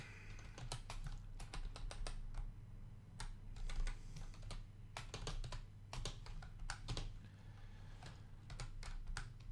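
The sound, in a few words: typing on a computer keyboard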